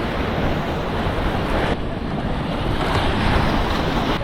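Sea waves break at a beach near a fishing harbour with boats about, making a loud, steady roar of surf with wind buffeting the microphone throughout.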